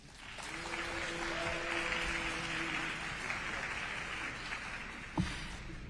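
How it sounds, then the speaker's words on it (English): Audience applause during a House Ways and Means Committee hearing, a sustained patter of many hands clapping at moderate distance for several seconds, tapering slightly near the end with a single louder knock. "clapping is a disruption of a congressional proceeding"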